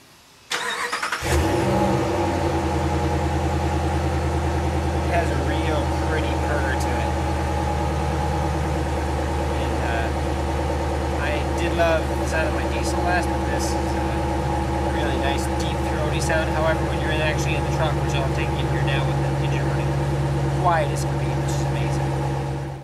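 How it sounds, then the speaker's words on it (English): A 2012 Ram 1500 Big Horn pickup truck engine starts with a burst, then rumbles at a steady, deep idle through dual exhaust close by, with faint clicks and small sounds over the drone. "I'll let you listen to what the dual pipes and everything have to offer."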